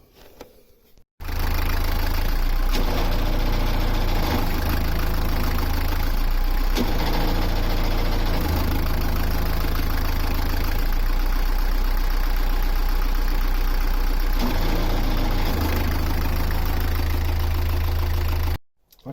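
A narrowboat engine starts up and ticks over at idle, a loud, steady low-pitched diesel throb with a rhythmic knock that runs on for most of the stretch before cutting off near the end.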